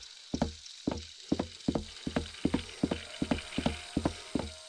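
Toy train motor in a video game, ticking in a steady mechanical rhythm of about ten sharp, evenly spaced clicks, close and moderately loud with no talk over it.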